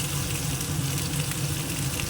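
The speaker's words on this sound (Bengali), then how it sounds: "এটা ভাজা হতে থাক" Food fries in a pan with a steady, close, even sizzle and crackle that continues without pause.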